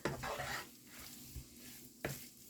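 Ground turkey and flour cooking in a skillet, with scraping stirs and a soft sizzle underneath, two sharper utensil scrapes at the start and near the end, close and quiet.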